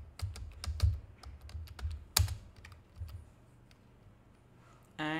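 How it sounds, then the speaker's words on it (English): Rapid, uneven bursts of keystrokes on a computer keyboard as names are entered into spreadsheet cells, close and clear, then a pause before a short synthetic screen-reader tone near the end. "So I have typed these three names."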